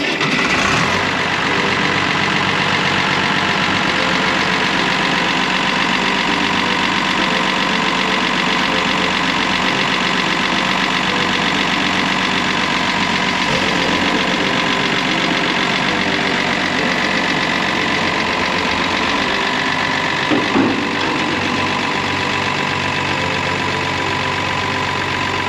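A hot-wired farm vehicle engine idles steadily and loudly nearby, with a constant low rumble and no voices.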